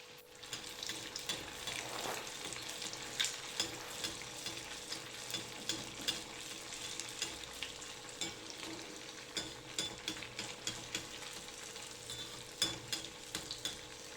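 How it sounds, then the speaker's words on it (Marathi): Flour-coated potato patties fry in oil with a steady, crackling sizzle. Frequent small pops and spatters rise above it, with occasional stirring or turning in the pan. "या मैद्याच्या पेस्टमध्ये घालायचं आहे हे फ्राय करून घ्यायचं आहे"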